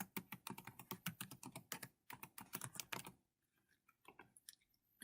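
Someone types a password on a computer keyboard in a quiet room: a quick, soft run of keystrokes lasting about three seconds, then near silence with a few scattered clicks.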